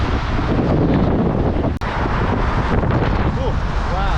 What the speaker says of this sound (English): You can hear that wind in the background.